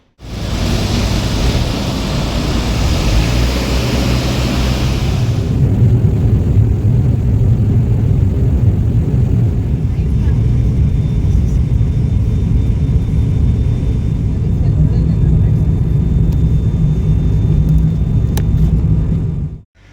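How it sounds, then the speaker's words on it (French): A small propeller airplane bound for Flores, Guatemala, gives a steady, loud, close droning rumble that holds without a break for the whole stretch. "on s'apprête à prendre un petit avion à hélice"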